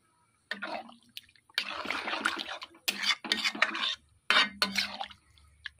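Bursts of wet stirring and scraping as water is mixed into an eggplant, spinach and bari curry in a pan, in several separate spells, with gurgling liquid and quiet pauses between.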